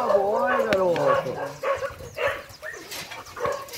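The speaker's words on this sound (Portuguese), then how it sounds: "Agora que ele tá aprendendo a latir." Young pitbull puppy giving high, yipping barks and whimpers, close by, while someone talks over and between them.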